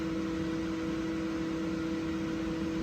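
A Glowforge laser engraver working on a silicone tumbler gives a steady, even whir of fans and air handling with a faint constant tone, unchanging and moderately quiet throughout.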